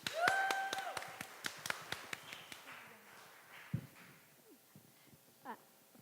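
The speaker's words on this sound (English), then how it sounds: "a round of applause, please" Scattered clapping from a small audience for a student speaker, a dozen or so sharp claps in an uneven rhythm that thin out and fade, with a brief squeal at the start and faint sounds afterward.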